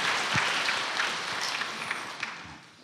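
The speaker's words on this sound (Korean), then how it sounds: "우리 박수 한번 쳐주세요." Steady applause from a church congregation, a dense wash of clapping that holds at an even level throughout with a few sharper claps standing out.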